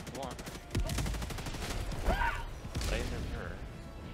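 Turrets firing in the video game Helldivers 2, rapid bursts of gunfire with mechanical clatter, heard under a voice talking.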